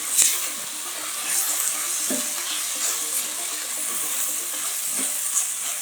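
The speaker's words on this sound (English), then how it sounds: "just add a little water here and there" Onions for Japanese chicken katsu curry sauté in a pan with a splash of water, giving a steady, fairly loud hiss and sizzle with light stirring clinks and no talk.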